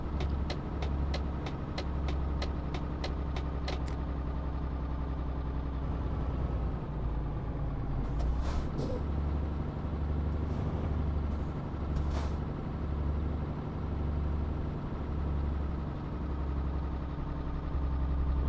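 Heavy truck in Euro Truck Simulator 2 hauling 11 tonnes of cargo on an Italian road: a steady, loud engine drone runs throughout with a brief air-brake hiss partway through, and no talk.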